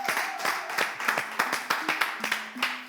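An audience claps for a champion at an event, with sharp hand claps falling in a fairly steady rhythm over a sustained musical tone, moderately loud and close.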